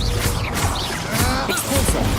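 Confringo fire spell cast in Hogwarts Legacy, a dense burst of fiery whooshing and crashing impacts with swirling magical tones, loud and busy throughout the short span.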